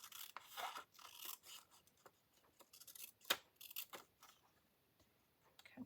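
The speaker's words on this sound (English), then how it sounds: "So I'm going to go ahead and cut off this top piece." Scissors snipping through printed paper while trimming a Christmas folio craft, heard as quiet irregular cuts and rustles with one sharper snip in the middle, close and with no talking.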